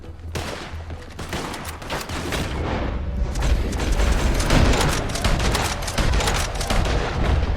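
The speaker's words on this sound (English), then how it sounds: "he's shooting from the hip, Arthur" Rapid gunfire in a Red Dead Redemption 2 shootout involving Arthur Morgan, dense volleys of shots and booms crackling continuously and building in intensity throughout.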